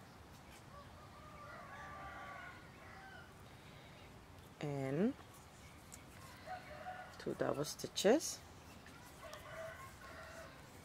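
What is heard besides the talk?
rooster crowing outside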